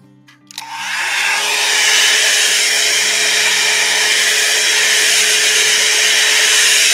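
A hair dryer switches on after a brief quiet start and runs as a loud, steady whoosh with a faint motor whine, drying the base coat of paint on a painted rock.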